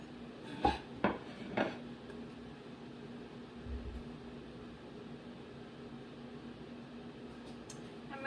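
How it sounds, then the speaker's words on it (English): Plates and cutlery clink at the start while a venison steak dinner with salad is plated: three quick clatters in the first two seconds, then a quiet room hum with a low electrical whine. "We're going to plate up our dinner now so we can get ready to eat"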